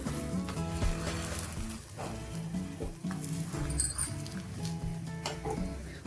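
A leftover-chapati Frankie roll fries crisp on a pan, giving a soft, steady sizzle with light clinks of the utensil, under background music.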